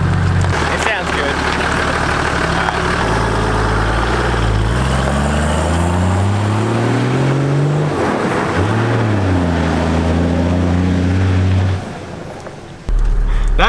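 A Toyota Landcruiser with a 1HDT diesel and a 3-inch straight pipe exhaust accelerates and drives by, its loud, deep engine note climbing through gears and swelling as it nears, then dropping away; voices talk faintly at points.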